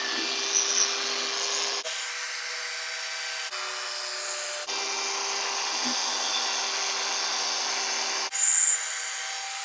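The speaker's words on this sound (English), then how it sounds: "Alright, let's start buffing." A dual action polisher buffs car headlights with a loud, steady whirring hum, its pitch and intensity shifting abruptly a few times as pressure changes between passes.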